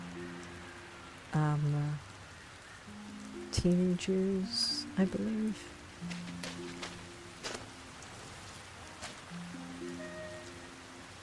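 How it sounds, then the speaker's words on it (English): Steady rain falls in the Hidden Forest area of the video game Sky: Children of the Light, a soft hiss under gentle melodic game music with someone talking over parts of it. "There we go, Hidden Forest, rain."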